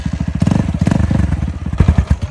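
A motorcycle engine chugs in quick, uneven thumping pulses as the bike bounces on its single-spring rear suspension, the throbbing beats loud and close with a metallic clatter.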